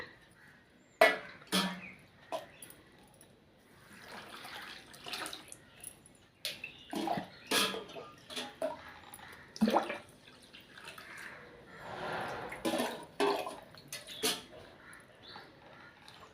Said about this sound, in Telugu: ఇప్పుడు ఉప్పు నూక కొంచెం వాటర్ వేసి కడిగేసి నీరు వంపేయాలన్నమాట